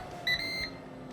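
A Ninja Crispi glass air fryer gives its signature start beep, a short, bright electronic tone lasting under half a second, heard clearly close up in a quiet kitchen.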